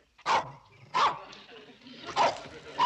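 A dog barks in four loud, sharp bursts spaced about a second apart, close by, with a faint voice low underneath.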